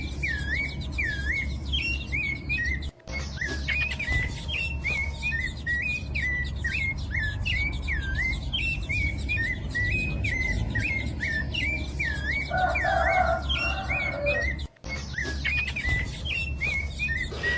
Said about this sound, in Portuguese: dessa sabiá chegando no seu ninho, trazendo comida para seus filhotes